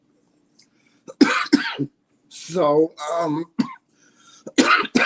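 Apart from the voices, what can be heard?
coughing from grass allergies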